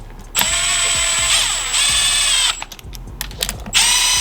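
A power tool snugs down bolts on a Seadoo 951 engine, loud high-pitched whirring in several bursts, each ending with a ratcheting clatter as the bolt seats, close by with no talk.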